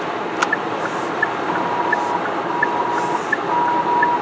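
Blind spot warning chime in a Hyundai Sonata Eco, sounding when the turn signal is on with a car alongside: a steady series of short evenly spaced beeps over continuous road and engine noise inside the car.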